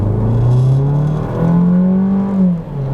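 A car launches from a standstill in normal mode with traction control on and the engine stalled for the start, producing a loud close engine drone that rises in pitch, shifts, then climbs again, with no voices.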